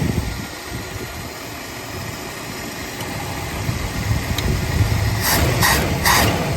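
A Mercury Zephyr car engine runs steadily at idle with a low rumbling drone and fan-like hum after its carburetor bowls were adjusted, with a few faint higher bursts near the end.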